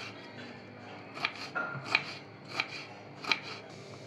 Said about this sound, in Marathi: आता आपण ते बारीक चिरून घेऊयात।